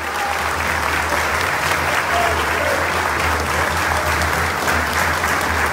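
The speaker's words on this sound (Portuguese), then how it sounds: "Quero aqui pedir uma salva de palmas à memória do mestre Moa." Sustained audience applause fills a political rally in Brazil, a dense steady wash of many hands clapping at even loudness throughout, with a low hum underneath and crowd noise blending in.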